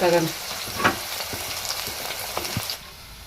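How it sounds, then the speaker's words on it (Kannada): Onions fry in hot oil on the way to browning, giving a close, continuous sizzle with scattered clicks and scrapes from stirring during festive home cooking. "ಸ್ವಲ್ಪ ಬ್ರೌನ್ ಕಲರ್ ಬರೋವರೆಗೂ ಉಳ್ಳಾಗಡ್ಡಿ ಫ್ರೈ ಮಾಡ್ಕೊಂಬಿಡೋಣ"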